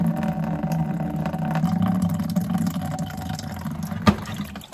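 Water trickles and splashes steadily from a freshly cut household supply line being added for a Keurig coffee maker, a close, continuous low rush with a sharp click near the end.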